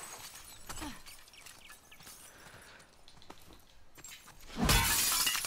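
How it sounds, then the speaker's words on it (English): Glass smashing in The Last of Us Part II: one loud, bright shatter near the end after quieter footsteps and small clinks, with no speech. "I love smashing stuff"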